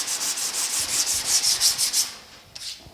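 Rhythmic rubbing strokes across sanded sheet metal on the door of a 1950 Chevy truck during primer prep, about a dozen close, steady hand passes that stop, followed by a couple of faint scuffs.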